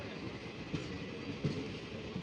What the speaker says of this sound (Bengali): চলো ট্রেন ঢুকে গেল, উঠি।